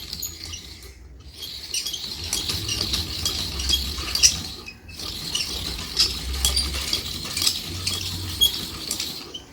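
Fresh coconut being scraped on a hand grater for drumstick greens in a home kitchen, giving a steady run of rhythmic rasping strokes with two short pauses, fairly close and moderately loud.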